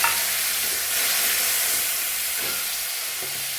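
Onions fry in a pan as cumin powder is added, giving a dense, steady sizzle and hiss close by that runs throughout with no voices.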